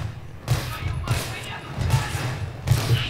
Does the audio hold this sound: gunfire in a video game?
yes